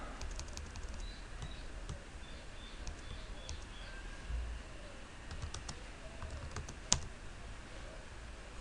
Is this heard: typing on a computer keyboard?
yes